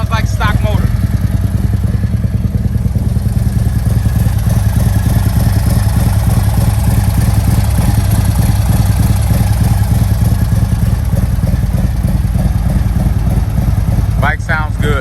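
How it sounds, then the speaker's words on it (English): A 2021 Harley-Davidson CVO motorcycle with a Stage II kit and Chromeworks exhaust idles steadily and loudly close by, its deep, lumpy rumble continuous throughout, with a brief clatter near the start and end. "But listen to the motor. Sounds like stock motor."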